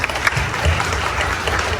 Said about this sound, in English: Can we give Tanya a round of applause?